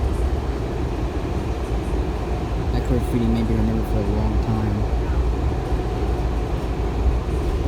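A Washington Metro train of Kawasaki 7000-series cars rumbles along in a loud, steady roar with a faint whine, while someone talks over the noise.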